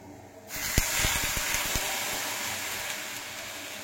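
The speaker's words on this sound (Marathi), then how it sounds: "आता आपण ह्याच्यात हे कोमट केलेलं पाणी घालू" Lukewarm water is poured into a pot of cooking black beans, starting after a brief silence as a steady rushing gush with a few small splashy clicks near the start.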